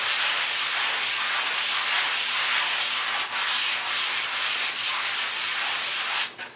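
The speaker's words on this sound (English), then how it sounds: "Sand it a little bit more." Sandpaper rubs by hand over a drywall patch in continuous, loud back-and-forth strokes, close up, with no voice, ending in a brief pause.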